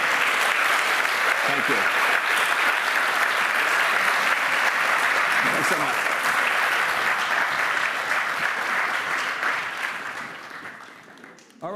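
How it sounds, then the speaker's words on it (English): A book-talk audience breaks into a long, loud round of applause that slowly tapers off near the end, while a voice briefly says thanks over it. "please, give a round of applause"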